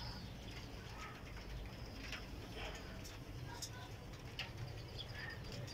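Pigeons cooing in a loft of high-flying pigeons, including a teddy pigeon with white ears, soft repeated coos and chirps amid wing rustles, with someone talking over them.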